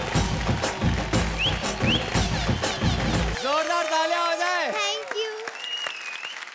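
A studio audience at a televised kids' drama talent show claps and cheers loudly for the first half, a dense roar of applause over music, then it cuts to sustained musical tones and voices.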